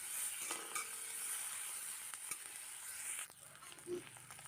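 Fish roe and a fish head fry with onions in a new iron kadai, giving a soft, steady sizzling hiss with faint clinks of stirring, fairly quiet throughout.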